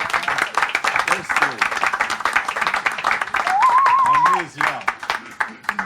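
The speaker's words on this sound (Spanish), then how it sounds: "Un aplauso para Alfredo y para todos" An audience at a presentation at Pikes Ibiza claps in a quick patter of hand claps throughout, while people talk over it and one voice rises in a sustained call partway through.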